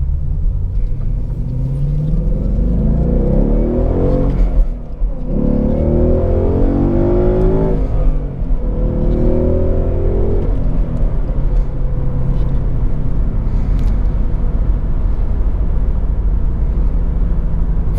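A 2017 Ford Mustang GT convertible with a 5-liter V8 drives and accelerates, its engine giving a steady, loud, close rumble that rises and falls in pitch through several surges, with no talk over it.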